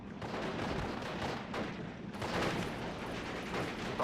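Artillery and gunfire pound anti-tank guns in a World War II strategy video game, dense overlapping blasts and rumbling impacts at moderate loudness.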